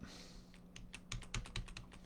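Quick bursts of typing on a computer keyboard, close and quiet, a run of about a dozen distinct key clicks in an uneven rhythm with no talk.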